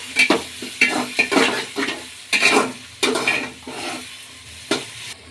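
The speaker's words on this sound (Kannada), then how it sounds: "ಈರುಳ್ಳಿ ಎಣ್ಣೆಲಿ ಫ್ರೈ ಆಗಲಿ" Chopped onion frying in oil with ginger, stirred in a pan: loud close sizzling swells with each push of the spoon, with rhythmic scraping and clatter against the metal and no voices.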